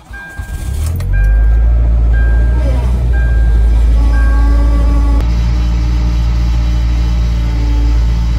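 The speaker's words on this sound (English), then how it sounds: "The real challenge on a day like this is trying to start the car." A car engine cranks and catches on a deep-freeze winter day, then settles into a loud, steady idle while a series of dashboard chime tones ring over it.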